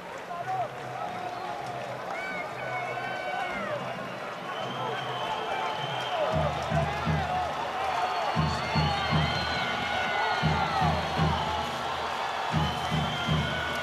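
Crowd noise fills a baseball stadium in Panama at the close of a World Baseball Classic qualifier against Argentina, a steady cheering roar that swells with rhythmic pulses partway through, while a commentator talks over it.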